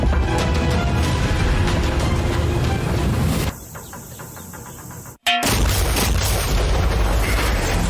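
An underwater sea bomb detonates near a boat: a loud, dense roaring blast that suddenly drops away, then a sharp cut before the heavy rumbling roar returns, with no speech.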